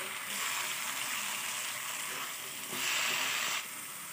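Onions and tomatoes sauté in hot oil for quail gravy, giving a close, continuous sizzling hiss that swells briefly louder partway through, with no talking.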